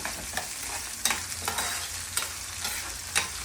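Mustard seeds and onions frying in hot oil for a village-style toor dal palya and brinjal curry, a steady close sizzle broken by several sharp stirring scrapes.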